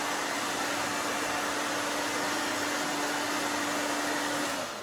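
A hair dryer blows steadily on gray hair during a long-to-short haircut, a continuous close whooshing roar with a faint motor hum that holds evenly for the whole stretch, with no talking.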